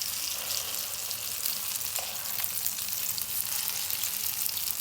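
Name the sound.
chicken daal shami kebabs frying in a pan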